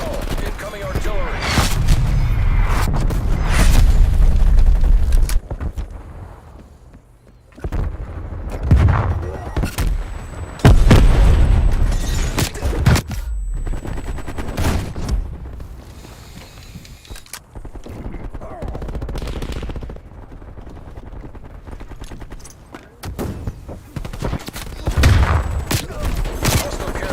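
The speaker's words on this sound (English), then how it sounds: "Hostile artillery targeting. Net call. Incoming artillery." Incoming artillery strike in an online shooter game: bursts of heavy explosions and rattling gunfire come in loud clusters with brief lulls, while a voice talks over parts of the barrage.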